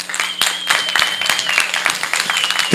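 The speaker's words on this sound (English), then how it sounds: "Clap your hands" An audience claps hands in a loud, continuous patter of applause, close and busy, with a steady tone running underneath and a sudden thump at the very end.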